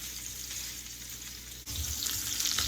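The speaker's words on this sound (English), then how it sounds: "Now we're going to give these a good little braise on both sides." Meat sizzles steadily as it braises in a pan, a continuous close frying hiss that grows busier and louder partway through after a brief dip.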